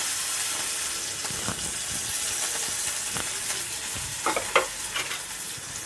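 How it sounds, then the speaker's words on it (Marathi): Chopped onion and curry leaves fry in hot oil, giving a steady, close sizzle and hiss with a few sharper crackles and pops toward the end. "तेल चांगलं असं गरम झालंय, त्यात मी हा अर्धा कांदा कापून घालते,"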